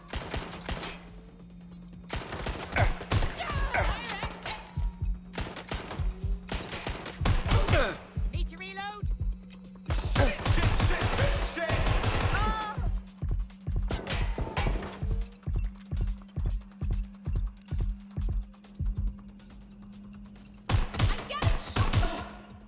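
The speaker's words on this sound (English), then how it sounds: "They're shooting at us!" Gunfire in the video game Watch Dogs Legion, with sharp bursts of shots, including steady rapid volleys, spread across the scene and mixed with talking voices and a constant low background hum.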